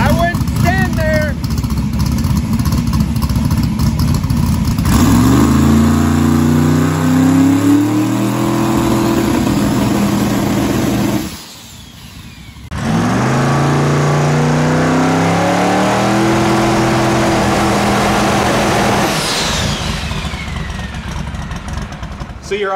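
A 482ci twin-turbo methanol-fuelled drag car engine with 98mm turbos, from a 3600HP Nova built for no-prep racing, revs up in two long climbing pulls separated by a brief lull, loud and close with rising harmonic whine.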